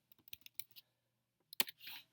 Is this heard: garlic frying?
no